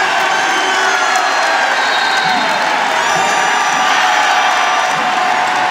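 A packed arena crowd at a women's college basketball game between Memphis and Bowling Green roars loudly and without a break, cheering and whooping, with shrill shouts riding on top of the noise.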